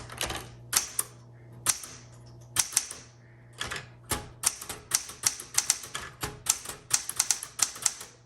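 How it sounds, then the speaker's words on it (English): A 1967 Smith Corona Classic 12 manual typewriter being typed on: sharp, loud key strikes in irregular bursts with brief pauses, close up, with a faint hum underneath. "it's good to just go through and loosen up all the keys and then start typing"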